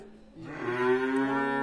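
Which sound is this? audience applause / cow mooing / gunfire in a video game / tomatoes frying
cow mooing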